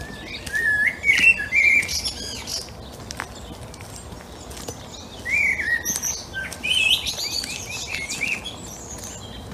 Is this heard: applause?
no